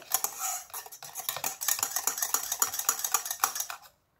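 Melted chocolate mixed with cocoa powder is stirred briskly in a bowl with a spoon, a steady run of close scraping clicks and taps that stops abruptly near the end.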